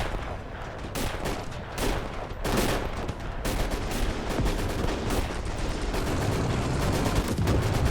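Soldiers firing rifles and machine guns in Call to Arms Gates of Hell on the Eastern Front, a dense, continuous battle fusillade with sharp individual cracks punctuating a steady roar of distant shooting, no voices.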